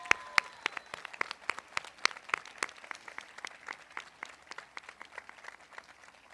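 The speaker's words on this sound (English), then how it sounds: "giving your teachers a big, fat round of applause for what they did this year" Scattered applause for the teachers at a 2021 high school graduation ceremony, individual sharp claps that are fairly distinct and moderately spaced, coming from a crowd that sounds sparse or somewhat distant.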